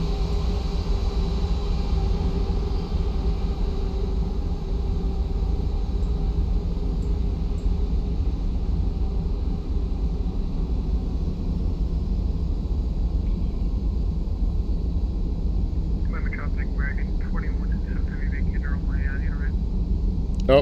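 A MAGKNIGHT Boeing 787-9 jet taking off in X-Plane 12, a loud, steady engine roar with deep rumble holding continuously throughout, and faint chirping tones near the end.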